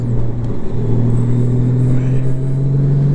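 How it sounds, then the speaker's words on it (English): A 6th-gen Honda Goldwing DCT motorcycle engine at wide open throttle pulls with a loud, close, steady droning hum and a rising rumble, mixed with wind noise. "I'm wide open throttle, and it wants to get the RPMs high"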